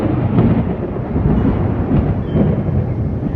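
Heavy thunder rolls on through a huge thunderstorm with lightning and hail over Middleburg. It is a loud, steady, broadband rumble with rising and falling swells, heard alone without voices.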